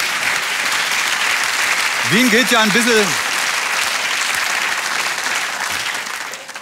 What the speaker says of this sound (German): klatsch mal, animier mal alle